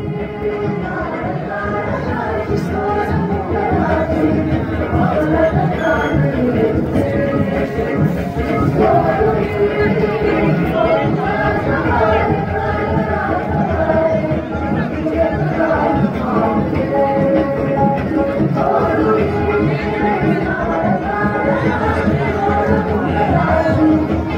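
A large crowd packs a village Ganesh festival, a dense, loud wall of overlapping chatter and shouting that holds steady throughout.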